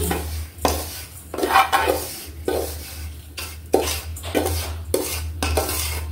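Metal utensils scrape and clatter against a pan in repeated bursts as a cooked semolina mixture for laddu is scooped onto a plate, with a steady low hum underneath.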